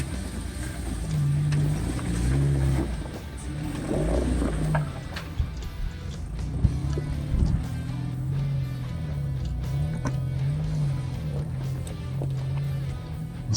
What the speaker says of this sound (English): So far, my little 4-cylinder stick-shift Jeep, doing great.